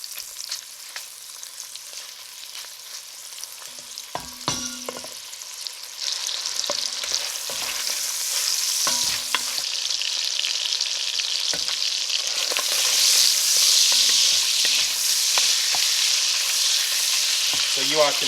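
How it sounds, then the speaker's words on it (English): Sausage fries in a pan as its fat renders, giving a steady close sizzle and crackle that slowly grows louder, with a few scattered clinks of a utensil stirring. "fat is starting to render out of the sausage, getting me where I want it"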